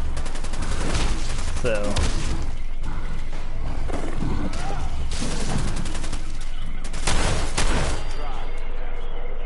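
Shotgun blasts in Fallout 4's Nuka World, fought during a safari adventure, come as several loud booms spread over the stretch, mixed with creature noises and brief speech.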